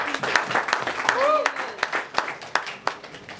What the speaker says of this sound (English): I just want to give them a massive, massive round of applause